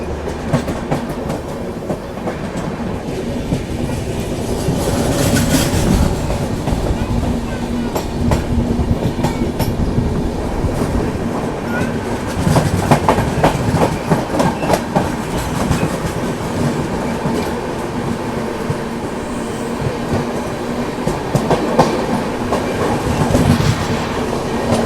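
Jaynagar Patna Intercity Express train running on rails, a steady close rumble with rhythmic clickety-clack of wheels over rail joints that continues throughout.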